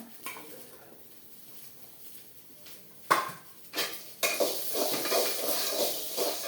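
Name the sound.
sautéing small onions in a pan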